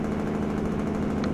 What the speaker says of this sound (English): That's the engine brake, the jerk brake.